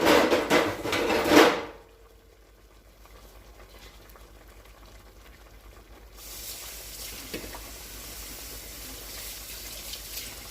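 A lid is set over a pot of steak in salsa on the stove, giving a brief loud clatter and sizzle before the pot settles into a quiet, low simmer.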